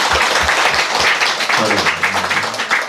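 Audience applause at a meditation lecture in Damyang, a dense steady wash of clapping from a seated crowd filling the whole stretch, loud and close with a few low voices under it.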